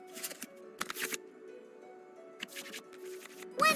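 Digital playing cards shuffled back into a draw pile in the Genshin Impact TCG card game, heard as a few soft, quick riffling flutters separated by quiet pauses.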